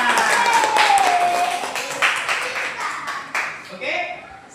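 Classroom hand clapping in a teacher's performance-assessment lesson, a short burst of scattered claps from students that fades over a few seconds while voices chatter in the background.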